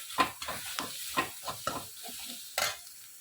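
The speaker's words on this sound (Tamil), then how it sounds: "சிம்மில் வச்சு நல்லா கிண்டி விட வேண்டியதான்." A spatula scrapes and stirs through egg and drumstick-leaf fry sizzling in a pan over low heat, in a series of sharp strokes roughly every half second, close and clear.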